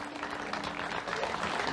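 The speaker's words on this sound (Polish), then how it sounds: "Wielkie brawa dla tych instruktorów, moi drodzy." Steady applause from a crowd at a shepherding season opening event in Silesia, fairly faint and even throughout, with a low hum beneath it.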